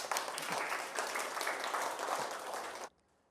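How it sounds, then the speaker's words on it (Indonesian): A classroom audience claps for a student group that has just presented, a steady burst of many hands that ends abruptly, leaving near silence. "Kasih aplaus kelompok 4."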